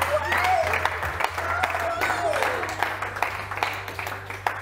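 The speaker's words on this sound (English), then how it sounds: "give her a massive round of applause" An audience at a live parlour magic show bursts into applause after a card trick, dense clapping mixed with cheers and excited voices, lively and continuous throughout.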